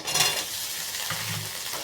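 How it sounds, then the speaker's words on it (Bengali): Half-boiled potatoes fry in oil after onions, a soft, steady sizzle with a brief scrape of stirring near the start and a faint metallic clink, no voices. "আলুগুলো তেলের মধ্যে আমি ভাজবো"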